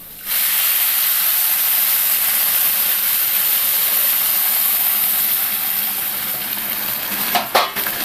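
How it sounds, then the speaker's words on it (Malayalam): Boiled water poured into a pot of frying rice for mutton dum biryani, giving a loud, steady hiss and sizzle that holds for several seconds with faint stirring clatter near the end; no talk. "നമ്മൾ തിളപ്പിച്ച് വെച്ചിരിക്കുന്ന വെള്ളം ഒഴിച്ചു കൊടുക്കണം"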